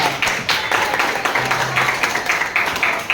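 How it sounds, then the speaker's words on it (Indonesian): A classroom audience at a teacher training session gives a short burst of lively clapping that stays dense and fairly loud for a few seconds, with voices mixed in. "Sekali lagi tepuk tangan yang meriah"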